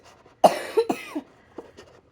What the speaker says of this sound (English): we have a cough